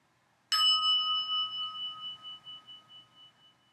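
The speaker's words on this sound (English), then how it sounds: "at the sound of the small bell, we will bow" A small meditation bell struck once, a clear bright ding that rings on with a long, slowly fading shimmer in an otherwise quiet room.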